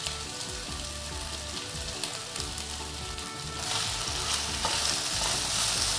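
Green beans sizzle steadily in a hot pan while being stirred, the frying hiss growing louder and fuller partway through, with scraping stir sounds and no voices.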